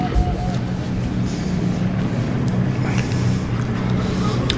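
A drift car at the French FFSA Drift Championship, Val de Vienne, roars loudly and steadily as the driver stays on the throttle, its engine note filling the whole moment with a harsh, sustained drone.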